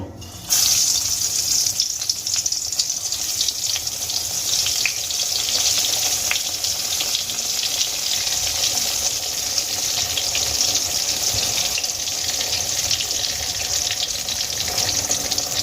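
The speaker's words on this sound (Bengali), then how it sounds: "এবার এই তেলের মধ্যে লবণ হলুদ আর লঙ্কার গুঁড়ো মাখিয়ে রাখা বেগুনগুলো আমি ভেজে নেবো" Eggplant pieces coated in salt, turmeric and chili powder hit hot oil and fry with a loud, continuous, close hiss and crackle that holds steady throughout, with no talking.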